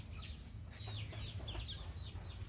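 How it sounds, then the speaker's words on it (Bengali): Junglefowl hens in a hilly forest setting give a string of soft, repeated clucks over a constant low background hum, several calls overlapping at moderate distance. "এই যে দেখুন কি সুন্দর সুন্দর বনমুরগি, কতগুলো মুরগি হয়েছে"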